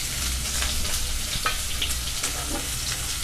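Chopped onion and cumin seeds fry in hot oil with a steady, close sizzle, broken by a few soft stirring scrapes; no one speaks.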